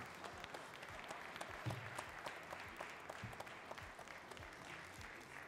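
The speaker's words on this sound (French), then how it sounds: "vous pouvez vraiment les applaudir très fort" Crowd applauds the eight teams who competed in a morning cooking contest, a steady roomful of clapping with individual sharp claps standing out, distant and faint.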